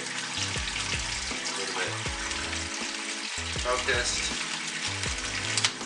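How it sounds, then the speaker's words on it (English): A kitchen sink tap runs steadily while kimchi is being prepared, its broad hiss continuing under stepping background music. "leave your water running"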